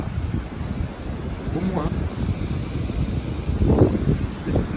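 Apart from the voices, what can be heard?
strong wind gusts during storm Eowyn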